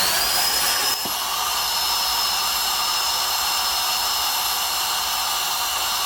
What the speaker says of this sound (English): This is an incredible multifunctional car vacuum cleaner.